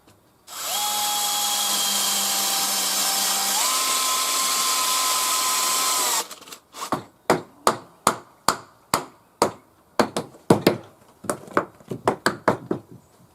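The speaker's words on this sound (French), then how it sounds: "je vais mettre, pour le levage, hein, juste une vis là" A power drill drives a screw into timber rafter framing of a traditional roof on a straw-bale build. A steady whine for several seconds steps up in pitch, then a dozen or so sharp hammer blows follow, close and loud.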